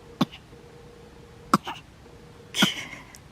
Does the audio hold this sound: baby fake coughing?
yes